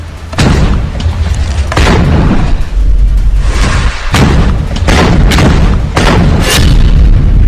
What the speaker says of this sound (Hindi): हमास मोर्चा संभालता है और फिर छुप कर फायर करता है यासीन रॉकेट